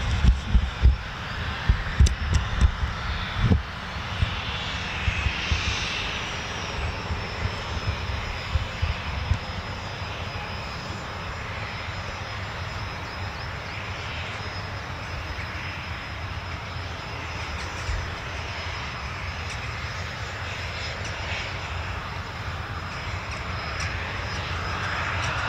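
USAF F-15E Strike Eagle and F-35A Lightning fighter jets of the 48th Fighter Wing at an RAF base, a steady powerful engine roar that holds for the whole stretch, with sharper bursts and rumble early on.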